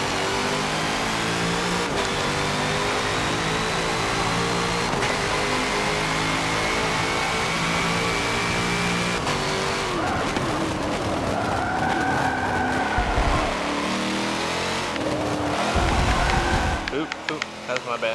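A Corvette race car in the Forza Motorsport 7 racing game drones steadily at high revs, with engine pitch sweeps and bursts of tire squeal through corners, loud and continuous.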